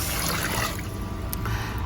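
Water is poured into a pot of snails, a close, steady trickling splash with a brighter burst of liquid partway through.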